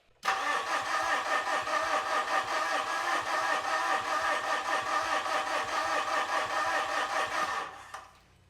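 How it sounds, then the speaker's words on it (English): Fuso FG truck with a 4P10 diesel engine cranking over with a suspected CP4 fuel pump fault, a loud, continuous rapid starter churn lasting about seven seconds without catching, then stopping abruptly. "read the fuel pressure while the engine is cranking over"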